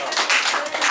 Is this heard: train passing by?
no